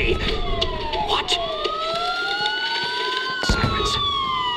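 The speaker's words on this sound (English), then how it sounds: "Sirens. The police." Police sirens wail in the Batman: Arkham Asylum video game, several overlapping rising and falling tones sounding loud and close, mixed with background game noise.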